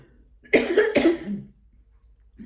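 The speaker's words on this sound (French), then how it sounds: "la bougie qui me fait arrêter qui me fait tousser" A single harsh cough, close up, in two quick bursts followed by a short throaty tail, then quiet.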